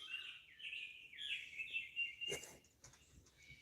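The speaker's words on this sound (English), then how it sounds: "Boy, them birds are just a-chirping away this morning." Birds chirping on a spring morning beside a lake, a faint, continuous song with a brief sharp rustle partway through.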